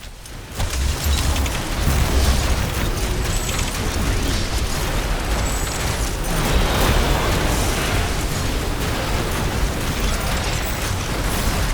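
Explosions and grinding mechanical destruction as a tower falls under attack in The Riftbreaker, a dense, loud, continuous rumble of blasts and clanking that does not let up for the whole stretch, with no talk.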